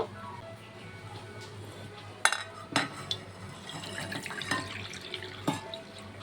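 Coconut water is strained into a bowl, a soft, continuous trickle of pouring liquid with a few sharp clinks and splashes from the kitchen.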